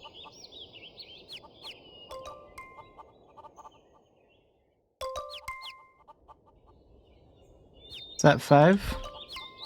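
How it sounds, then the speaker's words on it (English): Clucking of a hen in the online game Mabinogi, short bird calls repeating through the clip and a louder burst near the end, with a voice speaking briefly over it. "so we'll have to go find a hen"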